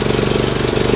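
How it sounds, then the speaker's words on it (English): A small farm engine idled up runs with a fast, even, lawnmower-like chugging, close and loud, the rapid regular pulses continuing without a break. "you idle it up, it sounds like a lawnmower"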